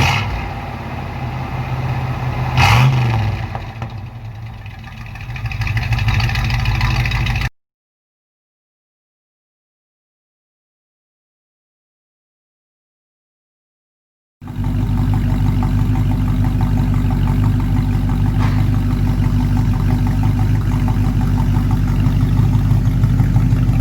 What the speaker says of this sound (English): That is Hooker dual exhaust with turbo mufflers on a 1972 C10 stock engine with cast iron exhaust manifolds.